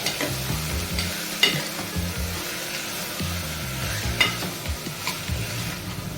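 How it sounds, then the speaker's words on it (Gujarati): Green peas tipped into a paste sautéing in hot oil for ragda patties, giving a steady sizzle with repeated stirring scrapes and a few sharper clatters, close up and alone. "હવે મેં અહીંયા 2 કપ લીલા વટાણા લીધેલા છે, એને આપણે એમાં એડ કરી દઈશું."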